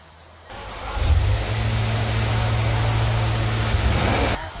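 A 2014 Land Rover Evoque Black Edition turns around and pulls away, its engine giving a steady, close, mid-pitched drone that swells as it gets under way and holds for several seconds before easing off.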